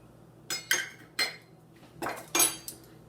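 Metal measuring spoons clink and tap against each other and a container while flour and cinnamon are scooped, six or so short, bright knocks in quick irregular succession, close and fairly quiet.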